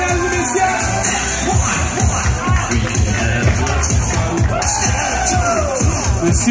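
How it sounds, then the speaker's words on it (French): A crowd at a Quebec gay pride event in 2015 cheers, whoops and shouts in a dense, continuous hubbub, with scattered clapping mixed into the noisy outdoor din. "On applaudit monsieur ici, mesdames et messieurs."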